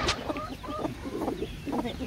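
A hen clucks softly among newly hatched baby chicks, with a steady run of close, high chirps and peeps throughout.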